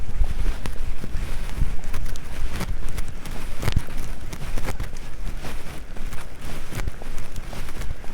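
Strong, cold wind blows across an open outdoor field at a countryside retreat, a steady broadband rush with gusty buffeting and intermittent thumps, continuous throughout with no talk.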